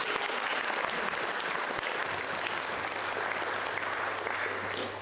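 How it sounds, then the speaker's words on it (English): A room full of people applauds continuously at a community event, a steady, even roar of clapping with a low hum underneath, fading slightly at the very end. "I think they deserve another round of applause."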